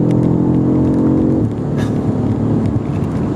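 A 617-horsepower 2020 BMW F90 M5 Competition accelerates hard on a public road, its engine droning loud and steady from inside, then shifting pitch about halfway through as a gear change takes over.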